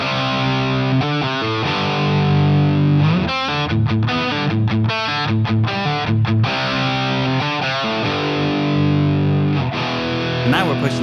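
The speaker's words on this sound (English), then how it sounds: "It's got enough bite and thickness from the humbucker to handle basic rock and punk rhythms pretty well" A cheap Amazon electric guitar with a humbucker pickup plays rhythmic rock chords through a heavily distorted amp tone, thick and loud, with short choppy stops and bursts of strummed chords throughout.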